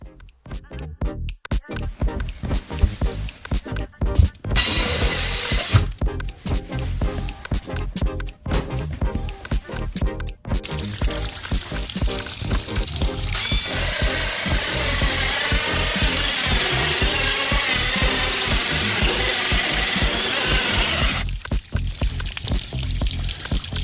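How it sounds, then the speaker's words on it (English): A cordless drill fitted with a 4 1/4 inch hole saw bores through a wall, giving a loud, gritty grinding whir that stops and restarts in bursts before settling into a longer continuous cut, close by with no talk. "trying to bore this hole through the wall"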